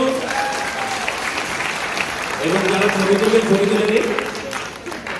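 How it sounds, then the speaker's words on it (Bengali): Audience applause at a Montreal concert evening honoring a singer, a steady wash of clapping that swells midway and carries on under someone speaking over a microphone. "সবাই মিলে খুব জোরে একটা হাততালি দিন ওনাদের জন্য"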